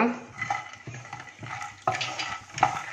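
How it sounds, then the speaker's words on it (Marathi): Peanuts are stirred while they roast in oil in a pan, giving a soft sizzle with repeated scraping and clinking strokes of a spoon against the metal. "शेंगदाणे खमंग भाजूया"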